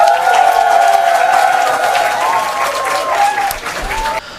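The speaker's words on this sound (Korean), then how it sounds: "박수 한번 부탁드립니다." Audience applause fills a hall at a political party's public youth candidate audition in Seoul's Seodaemun district, a steady burst of clapping that thins out toward the end.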